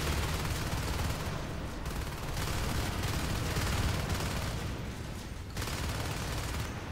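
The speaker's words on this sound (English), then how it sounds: "those shotguns are not doing anything" Shotguns fire in a fast-paced multiplayer video game match, producing a dense, continuous barrage of overlapping blasts and crackling gunfire that stays loud throughout with brief dips, heard without any talk.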